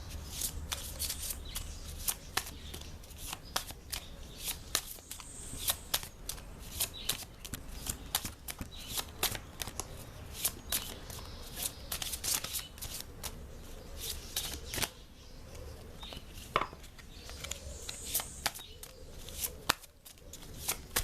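Tarot cards are shuffled by hand over a long stretch, a near, dense run of riffling and slapping flutters with brief pauses between handfuls, with no voice over it.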